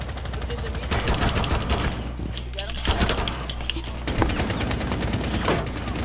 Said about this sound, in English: let me just reload while you're shooting at me